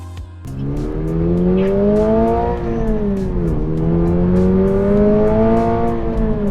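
A 2022 Subaru BRZ with its new 2.4-liter engine on a test drive: the engine note climbs steadily through two rising pulls with a brief gear-change dip between, loud and close from the cabin, with no talking.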